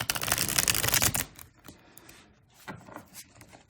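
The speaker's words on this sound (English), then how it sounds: "Shuffle." Rapid riffling of tarot cards being shuffled close by for about a second, followed by a few softer taps and slides of the deck.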